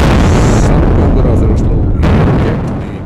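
Final tunnel blast in the Dýrafjörður road tunnel between Dýrafjörður and Arnarfjörður, Iceland: a loud, sustained rumbling boom filling the clip, with a sharp renewed burst near the end before slowly fading.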